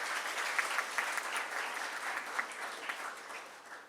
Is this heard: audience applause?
yes